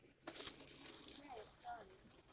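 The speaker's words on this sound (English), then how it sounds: "Let me make sure the hose is filled first." Water rushes steadily through a hose fed by a homemade water pump, a continuous hissing gush that starts abruptly and holds at a fairly loud, close level with faint voice-like sounds mixed in.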